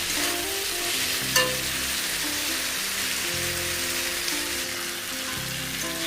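Okra (bhindi) fries in a pan with a loud, steady, close hiss of sizzling oil, one brief clink partway through, and soft music playing underneath.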